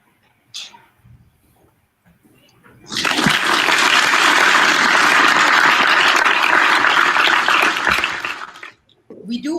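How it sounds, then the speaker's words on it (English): Sustained audience applause for the participants of an online COVID-19 quiz show rises suddenly after a few seconds of near silence, holds loud and even for about six seconds, then cuts off. "a round of applause for all our participants for their participation"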